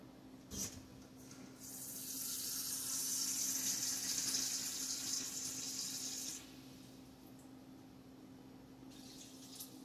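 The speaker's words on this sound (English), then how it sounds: "we're going to add 1 cup of water" One cup of water pours steadily into a cooking pot for several seconds, a soft hissing splash that fades out, over a low background hum.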